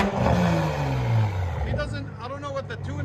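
Toyota Supra GR with a 3.0L inline-six and Tomei Expreme exhaust idles with a deep, steady rumble and a brief swell early on. Speech-like sounds run over it in the latter half.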